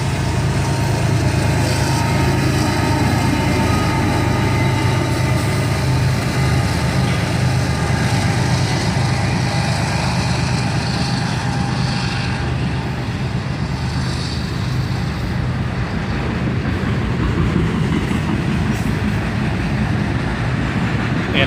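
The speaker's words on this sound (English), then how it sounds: "Here comes the second locomotive now." A CSX autorack freight train rolls past in Carlisle as its second locomotive goes by, a loud, steady rumble and rush of wheels and cars close by, unbroken for the whole stretch with no talk.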